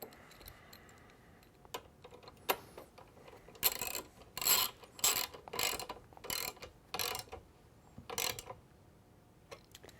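On a 2-door Bronco, a T30 driver snugs down a pivot knuckle screw for a Trektop, giving a run of close, rhythmic ratcheting clicks and grinding bursts after a few scattered knocks.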